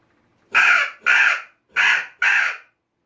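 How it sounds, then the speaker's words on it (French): Agitated crow cawing, four loud harsh caws in two close pairs, near and alone with no other sound. "quand vous entendez un corbeau s'énerver"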